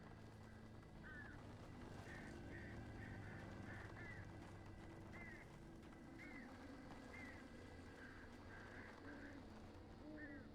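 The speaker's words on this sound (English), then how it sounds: "The birds." Honking goose-like bird calls in the Alan Wake video game, repeated in short bursts at a moderate distance over a steady low ambient drone.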